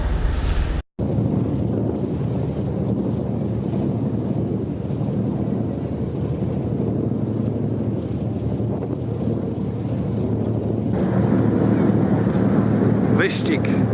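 Small boats race across the sea off Thailand on the way to Phuket, a steady loud engine drone with water rush and wind buffeting the microphone throughout, broken by a brief dropout near the start.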